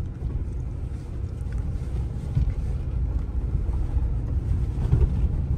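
A 4x4 pickup truck climbs a sand slope in the western USA, its engine a steady low rumble mixed with wind buffeting the microphone, continuous and fairly loud with no talking.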